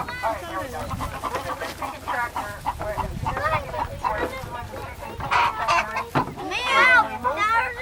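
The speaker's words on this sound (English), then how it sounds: "Man, now there are chickens in there." Several chickens on a farm cluck and squawk close by in a busy, overlapping chorus, with a person talking intermittently among them.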